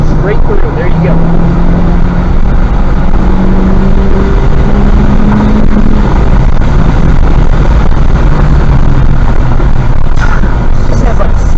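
Honda Civic Type R on a race track at a track day, its engine droning loudly and steadily with rising pitch sweeps as it pulls through gears, while a person talks over the noise.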